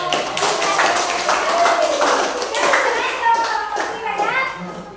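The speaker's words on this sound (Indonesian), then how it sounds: "Jadi kasih dulu aplaus dong untuk kelompok." Applause in a school classroom for a student group: a steady patter of clapping mixed with children's voices, lasting about five seconds.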